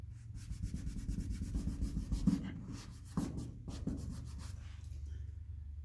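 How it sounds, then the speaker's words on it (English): A rag soaked in gun wash rubbed back and forth over old lacquer paint on a Ford F350 truck, giving a close, steady scrubbing rasp with a few sharper strokes. "So here I got a rag and I got some gun wash."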